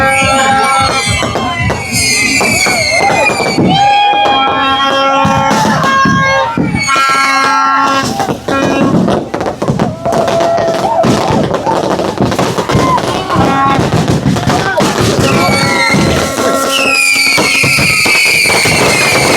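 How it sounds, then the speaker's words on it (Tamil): Firecrackers explode at night in Jaffna, a loud, dense barrage of bangs and thumps mixed with whistling tones and crowd voices that continues without a break. "சில வெடியல் மிஸ் ஆகி ஆக்களுக்கு எல்லாம் வந்து பறக்குது."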